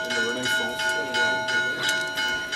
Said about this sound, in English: The bell is ringing for an hour because of Pentecost.